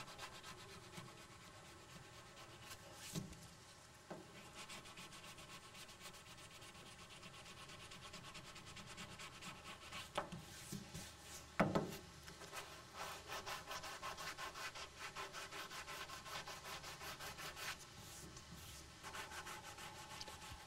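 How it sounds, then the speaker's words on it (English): Steady back-and-forth block sanding of primer by hand, a continuous gritty rubbing with a few louder scrapes, quiet and close. "When you're sanding, you want to be real careful."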